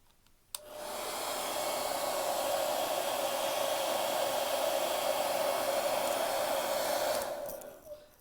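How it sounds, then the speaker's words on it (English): A hair dryer blows steadily onto a model train wagon, switching on abruptly with a loud continuous airy roar that holds for several seconds before cutting off. "I want to increase the temperature by using a hairdryer."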